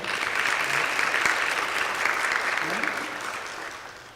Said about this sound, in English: I'm going to ask you all to give them a round of applause today.